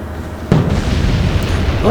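Torpedo hits sink two submarines at once in a naval war game, giving a sudden loud boom followed by a rolling, rumbling blast. A second swell builds near the end.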